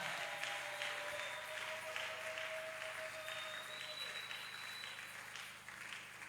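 A church congregation claps in a sustained round of applause, moderately loud and reverberant, with a faint tonal whistle drifting through and a speaking voice over the clapping.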